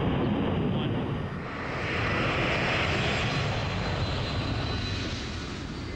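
A Lockheed C-5 Galaxy military transport's turbofan engines at full takeoff thrust give a continuous, heavy roar that swells slightly, heard from a distance with no clear voices.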